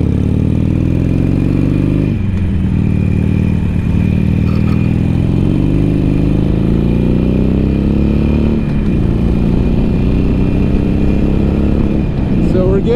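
A stock Harley-Davidson Iron 883 carries two riders at highway speed over 70 mph, producing a continuous, loud engine drone mixed with heavy wind noise while a voice talks over it.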